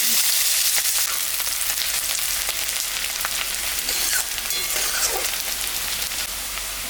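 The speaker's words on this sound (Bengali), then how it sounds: "পেঁয়াজটা ভাজা ভাজা হয়ে গেছে।" Onion fries in hot oil in a pan, giving off a loud, steady sizzle that runs unbroken from start to finish with light crackling on top.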